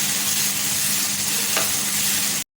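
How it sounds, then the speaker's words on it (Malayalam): Ginger garlic paste sizzles steadily in a hot pan while being stirred for a prawn roast, a close, even frying crackle that cuts off abruptly. "ജിഞ്ചർ ഗാർലിക് പേസ്റ്റിൻ്റെ ഒക്കെ റോ സ്മെല്ല് പോണ വരെ ഒന്ന് നന്നായി വഴറ്റി കൊടുക്കാം"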